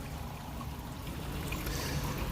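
Pond waterfall slowed to a trickle, fed by a 2,500-gallon pump setup, giving a faint, continuous soft splash and babble of running water with no voices.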